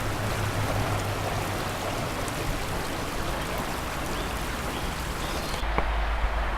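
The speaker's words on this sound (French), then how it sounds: "Prise de son de la rivière" Steady broadband rush of a flowing river recorded outdoors, continuous and close, with no voices, cutting to a quieter tone near the end.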